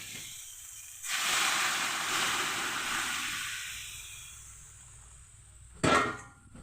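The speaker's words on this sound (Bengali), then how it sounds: "এই মুহূর্তে আমি দিয়ে দেব তরকারিটায় জল" Water poured into a pan of frying potato and latta fish curry with salt and turmeric, setting off a loud sizzling hiss that slowly fades over several seconds, followed by a sharp clang near the end.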